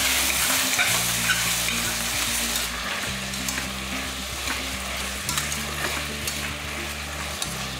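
Tomatoes sautéing in hot oil give a steady, close sizzle with crackling bubbles and occasional stirring scrapes, continuous throughout with no talking.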